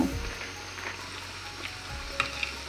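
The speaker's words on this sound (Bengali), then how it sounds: "মিডিয়াম হিটে ভেজে নেব।" Rice balls made from rice flour deep-fry in oil over medium heat, giving a close, steady sizzle with a few soft crackles and light stirring clicks throughout.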